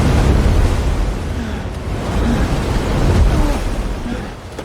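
Rough, fast-moving stream water churning through a narrow channel between two mountain walls as a kayak rides it, a steady close roar of broadband rushing that swells slightly midway and dips near the end, with no voices.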